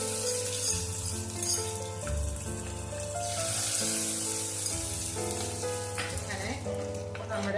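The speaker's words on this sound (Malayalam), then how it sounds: "ഇനി ഇത് കടുക് വറുത്തത് നമുക്ക് അരപ്പിലോട്ട് പച്ചടിയിലോട്ട് ചേർത്ത് കൊടുക്കും." Mustard seed tempering sizzles steadily as it is poured into a pachadi of ash gourd (kumbalanga) with ground coconut paste, a loud continuous crackle over music throughout.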